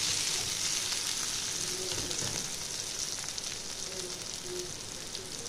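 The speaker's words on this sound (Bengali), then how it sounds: "অনেকটাই আমার ভাজা ভাজা হয়ে গেছে।" Bitter gourd and eggplant sizzling steadily in a covered pan over a low flame, a continuous close hiss with faint crackles throughout and no speech.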